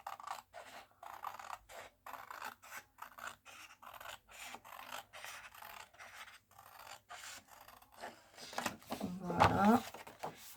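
Scissors snip through paper to cut out small Christmas gift tags, making faint, close rasping cuts in a quick irregular series, with a louder rustle of handled paper toward the end.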